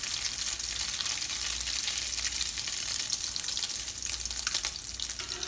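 Crab cakes frying in a pan on a stove set to medium heat, giving a steady, close hiss and sizzle that runs evenly throughout with no talking.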